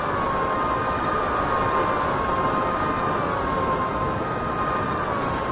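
A train crosses a bridge in Train Simulator 2014, a steady loud rumble of wheels and engine under a sustained high whining tone, continuous throughout.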